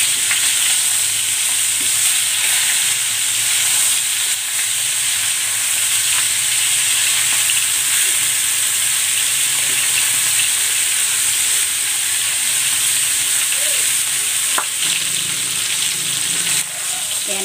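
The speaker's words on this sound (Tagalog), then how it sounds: "I-sear ko muna itong chicken." Chicken sears in a hot pan with cooking oil, a steady loud sizzle and crackle of frying that runs unbroken from start to finish.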